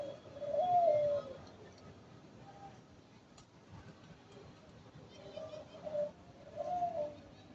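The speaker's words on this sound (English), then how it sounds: "There's the dove." Doves kept alongside peacocks and rabbits give low, mellow coos in three separate phrases, moderately close, over a quiet outdoor background with faint voices.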